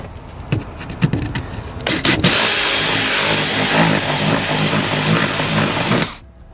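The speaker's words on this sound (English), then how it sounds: "then you can go in with a bigger drill bit" A power drill with a larger bit bores out bolt holes in a forged carbon part for a C8 Corvette, a loud, steady whirring grind after a few short starts, ending abruptly.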